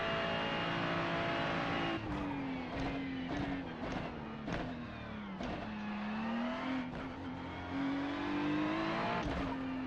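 Next-gen NASCAR Cup race cars roar around a racing video game track at night, one engine droning loud and close with rising and falling pitch as it shifts and revs, other cars whooshing past in brief bursts.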